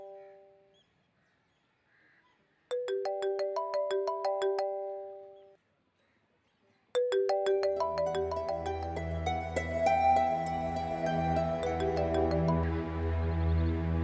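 A mobile phone ringtone plays a bright chiming melody in bursts, rising from short repeated phrases to a fuller, louder tune with a bass line.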